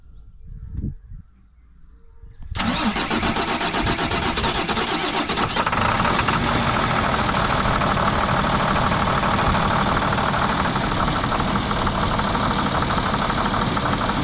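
An International truck engine cranks over briefly, catches and settles into a loud, steady idle close by, with a faint rattling knock running through it for over ten seconds.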